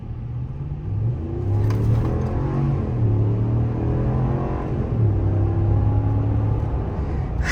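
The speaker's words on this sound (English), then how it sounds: "you just can't replace the V8 sound" A 2023 Ram Laramie truck's deep V8 engine rumbles close by, revving up and easing off in smooth swells with a low, throaty growl.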